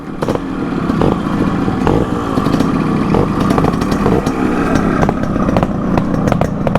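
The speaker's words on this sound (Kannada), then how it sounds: "2 ಲೆಜೆಂಡ್ರಿ ಗಾಡಿ, KB100 RX 100." Two-stroke Yamaha RX 100 and KB100 motorcycle engines idle together in a steady, loud, buzzing rasp, with sharp throttle blips popping through the continuous drone.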